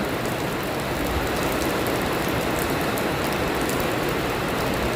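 Steady heavy rain pouring down, a dense unbroken hiss of drops striking surfaces, loud and close throughout with no pauses.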